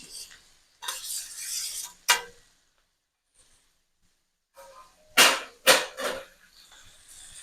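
Finely chopped cucumber pieces are tipped into a pan and stirred, giving short bursts of scraping and clattering against metal, a rush at first, then sharper clanks separated by quiet gaps.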